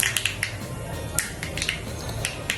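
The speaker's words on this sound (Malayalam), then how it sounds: "എണ്ണ ചൂടായി വരുമ്പോൾ കടുക് പൊട്ടിക്കണം" Mustard seeds pop in hot coconut oil in a pan as sharp, scattered crackles and snaps, several in quick clusters, over a low background hum with no speech.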